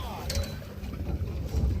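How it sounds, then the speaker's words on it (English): A motor boat moves across Mille Lacs Lake during a fishing trip, with a low, faint engine drone, water wash and wind noise running steadily underneath. "so the captain decided to move the boat"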